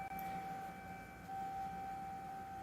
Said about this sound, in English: Hear that siren?